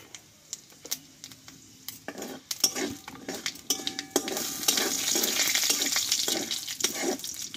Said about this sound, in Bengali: ফোড়নটা একটু ভালোভাবে ভেজে নেব আমি